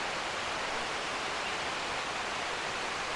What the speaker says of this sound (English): you've experienced the Erawan waterfall